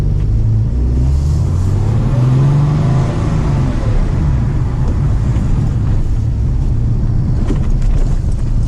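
A Porsche 993 drives over a bumpy road, its engine a loud, steady low rumble with road thumps and a brief rise in pitch, heard from inside the car.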